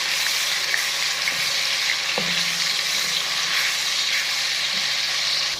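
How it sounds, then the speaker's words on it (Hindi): Ground garlic fries in hot ghee, giving a loud, steady crackling sizzle that continues throughout, with a brief stir partway through. "हमने जो लहसुन पीसा हुआ था वो इसके अंदर ऐड कर देंगे और इसको आराम से भूनते जाएंगे"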